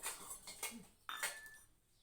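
Steel spoons clink against small serving bowls in a home kitchen, a few quick bright metallic taps and a short ringing chime, close and quiet with no voices.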